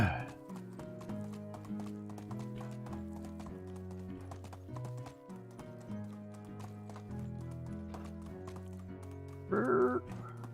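A horse's hooves clip-clop in the medieval game Medieval Dynasty, a steady walking rhythm over background music, with a brief whinny near the end.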